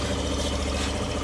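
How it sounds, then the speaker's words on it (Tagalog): A Suzuki Burgman EX scooter engine idles steadily after a drain plug repair, a continuous close mid-low engine hum with no talk over it. "Rinig nyo naman yung tunog ng makina niya."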